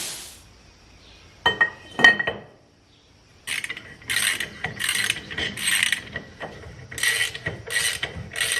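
Metal tools ratcheting and clinking while 3.5-inch BORA wheel spacers are fitted to an RK25 / TYM T25 tractor wheel, with repeated bursts of ratchet clicks and gear-like clatter, close and fairly loud, no talking.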